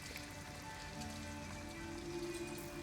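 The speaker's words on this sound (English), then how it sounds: "There's rain." Steady rain pours down in Detroit: Become Human, a dense, even hiss of drops spattering on surfaces that fills the whole stretch at close range with no voices over it.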